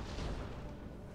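Distant, muffled cannon fire from enemy batteries in a Napoleon Total War battle in Portugal, a steady low rumble of booms running through the whole moment without a clear single shot.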